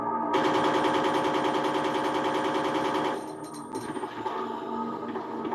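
Rapid gunfire rattles loudly and continuously for about three seconds in the 1998 Resident Evil 2 game as zombies are shot, then gives way to quieter scattered thuds.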